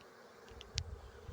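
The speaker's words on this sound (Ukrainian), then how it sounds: "рій пішов на рамки" A small honeybee swarm moves onto hive frames after being taken down from a tree, giving a faint low buzzing hum with a couple of brief louder passes of bees near the listener.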